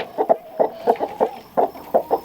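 Backyard chickens cluck close by in a series of short, repeated two-part calls, moderately loud and without talking.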